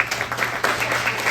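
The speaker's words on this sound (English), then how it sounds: "Another round of applause for Howard." Audience applause at a Wisconsin Senate District 17 candidate forum, a dense, steady round of clapping that stays loud and close for the full moment with no talk over it.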